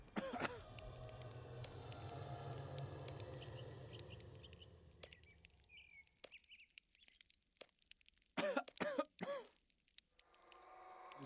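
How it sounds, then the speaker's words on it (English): A man coughs a few times in short, harsh bursts in RuneScape 3, alone after a stretch of steady ambient hum and a few faint clicks. "Somebody coughing."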